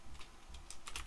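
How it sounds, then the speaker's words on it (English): Faint, quick clicking keystrokes on a computer keyboard tap out an irregular typing rhythm, close but quiet, with no talking. "One sec, let me just type this out."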